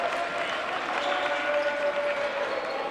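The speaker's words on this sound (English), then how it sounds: "And he gets a warm round of applause." A warm round of applause from spectators at a Bears versus Lilacs basketball game as a player fouls out, steady moderate clapping from a modest crowd under faint background murmur.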